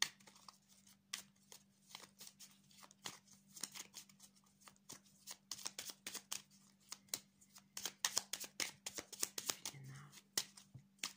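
Tarot cards are shuffled and cut by hand, a run of quick, crisp riffling flicks and soft slaps in irregular bursts, close and fairly quiet over a low steady hum, with a voice speaking faintly at times.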